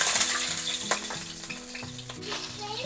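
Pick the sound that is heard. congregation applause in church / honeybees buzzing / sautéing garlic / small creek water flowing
sautéing garlic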